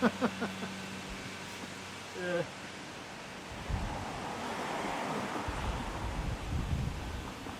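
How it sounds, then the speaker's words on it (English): Wind gusts rumble against the microphone, rising into a steady buffeting roar after a few quieter seconds, with some faint speech-like sounds early on. "Pretty windy though."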